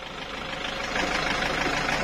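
A Toyota Hilux with a 2500 cc diesel engine idling, a steady mid-pitched clattering drone that grows slightly louder halfway through, heard up close with no voices.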